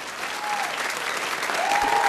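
An audience in a film scene breaks into applause, a brief burst of steady clapping close by with a faint tone running through it.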